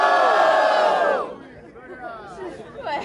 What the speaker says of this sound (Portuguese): Barulho, quem gostou das rimas de Maquisito?